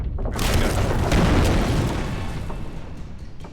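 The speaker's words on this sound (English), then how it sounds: "so we flare, and then flare gun" Flare gun fired in Alan Wake Remastered, a loud booming burst with a rushing tail that fades over a few seconds, heard alone without talk.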